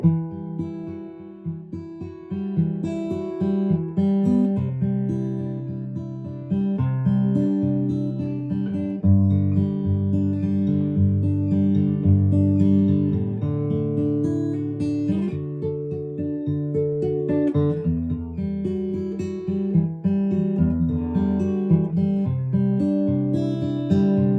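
Em9 chord voicing played fingerstyle on a Martin acoustic guitar, with arpeggiated notes ringing over a steady low bass for about twenty seconds at a soft, even level, no voices.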